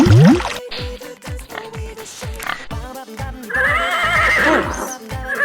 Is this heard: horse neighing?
yes